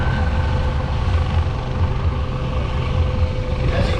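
An MH-65 Dolphin Coast Guard helicopter hovers low over water during a rescue demonstration, a steady, loud rotor and engine rumble filling the air without a break.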